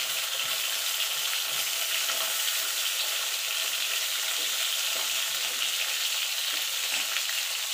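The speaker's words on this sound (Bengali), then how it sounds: "এবার পটলগুলোকে লাল লাল করে ভেজে নেব।" Pointed gourd (potol) pieces frying in oil in a pan, a steady, dense sizzle that holds evenly throughout with no voices.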